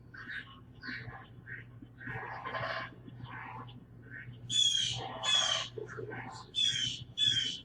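Crows cawing in a Southwest Florida backyard at morning, a series of harsh repeated calls at moderate distance over a low steady hum, growing louder toward the end.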